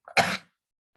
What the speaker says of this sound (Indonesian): Ini mohon maaf masih batuk-batuk.